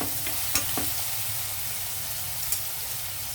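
Ginger garlic paste fries with turmeric in a pan for a mutton curry, a continuous close sizzle broken by a few sharp stirring scrapes of a spoon against the pan.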